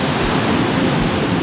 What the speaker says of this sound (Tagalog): Tapos sinasabayan pa nung tunog ng alon.